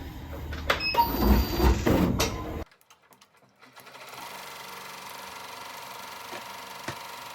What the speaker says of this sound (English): So now we're going to sew the design.